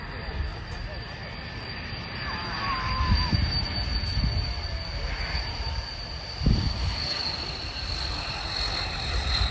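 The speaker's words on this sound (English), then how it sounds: "She is absolutely beautiful while coming into land." French Navy Dassault Atlantique coming in to land at RIAT 25, a steady distant turboprop drone with a whining tone under crowd noise and a voice talking over it.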